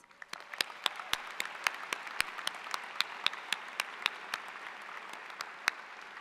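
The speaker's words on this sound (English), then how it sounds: "Let's give them a round of applause." Sustained applause from a university commencement audience, many hands clapping steadily at moderate volume, with a few sharper claps standing out.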